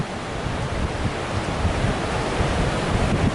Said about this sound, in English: Okay, so this is all the ocean here, but it's still Marineland.